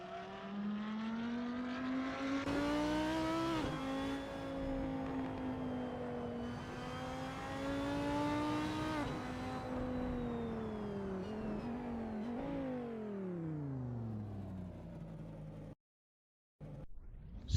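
An Audi R8 LMS race car in the Assetto Corsa video game, its engine under load, gives a loud, sustained, rising and falling whine through long gear pulls, then briefly cuts out near the end.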